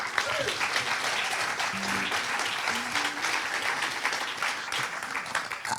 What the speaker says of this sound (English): A big round of applause for DNA.